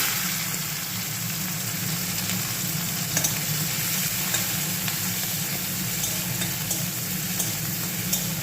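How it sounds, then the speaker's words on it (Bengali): Prawns fry in hot oil in a pan for a sour prawn-and-radish dish, giving off a steady, close sizzle with faint stirring and crackles and no voices. "তেলটা গরম হয়ে গেলে ওর মধ্যে আমি চিংড়ি মাছগুলো ভেজে নিচ্ছি।"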